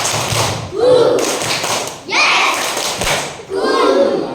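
A classroom of children does the 'tepuk hati ngantuk' clapping game in rhythmic bursts of claps and taps. Children's voices chant along, and an adult briefly speaks.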